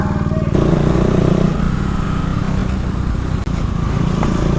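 Motorcycle engine running steadily nearby during a motovlog ride, a loud continuous low rumble with a brief dip near the end, no talking.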